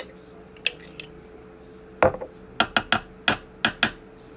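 A spoon clinks against a bowl while macaroni salad with zucchini relish is stirred, giving a scattered series of sharp taps that quicken into a rapid run of knocks, close and crisp, with no talking.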